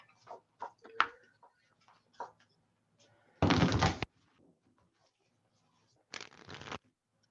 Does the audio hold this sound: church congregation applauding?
no